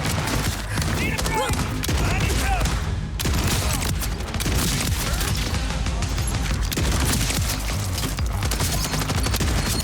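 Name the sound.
Torg rocket weapon shots in Borderlands 4, video game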